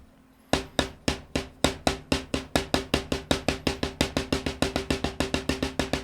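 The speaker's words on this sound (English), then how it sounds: "Eventually, the double stroke should sound like this." A drum plays an even double-stroke roll, sharp hits starting slow and speeding up into a rapid, steady stream of strokes.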